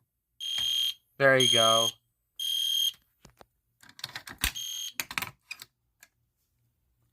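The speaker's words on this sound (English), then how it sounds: "So that is fire alarm system test 24." An EST Genesis fire alarm system sounds during a test, giving three loud electronic tone bursts of about half a second each before it falls silent, followed by clicks and handling noises, and a person speaks briefly.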